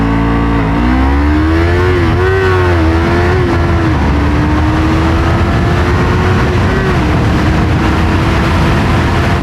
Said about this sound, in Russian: Если вдруг кому-то интересен разгон, сейчас покажу с места и буду переключаться тогда, когда будет включаться блинкер.